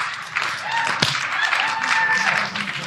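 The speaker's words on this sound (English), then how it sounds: "Let's do the clap." Podcast hosts and a small group clap together at the start of a show, a brief burst of hand claps under and around talking voices.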